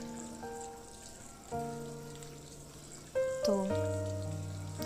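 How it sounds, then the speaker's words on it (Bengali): Potato egg chops frying in oil over medium heat, a faint steady sizzle and crackle under intermittent tonal kitchen noises, with a brief spoken word. "মিডিয়াম আঁচে আলুর চপগুলোকে এভাবে ভাজতে হবে।"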